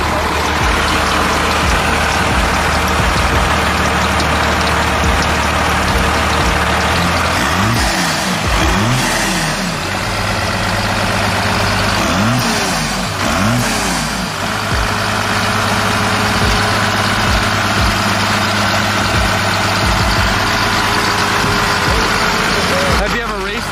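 A supercharged diesel truck engine runs loud and steady at close range with a constant rumble and a whining hum that shifts in pitch at times, under mostly continuous talk.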